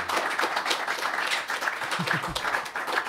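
Live audience applauding and clapping as podcast guest Olesya Myakonkaya of Mars Nation takes the round stage, a steady crowd roar lasting throughout, with a low voice briefly audible underneath.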